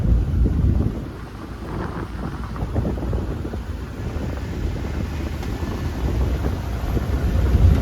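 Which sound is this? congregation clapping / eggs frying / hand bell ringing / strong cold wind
strong cold wind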